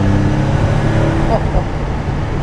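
A 1993 Jaguar XJ220 supercar accelerates nearby, a loud continuous engine roar with rising tone, heard over road and traffic noise.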